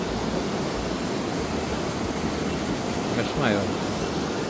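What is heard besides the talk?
water flowing over a small dam toward paddy fields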